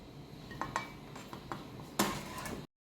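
A spoon or ladle scrapes and clinks against a metal pot while boiled cauliflower is scooped out, several sharp clanks with one louder knock near the end, close and alone.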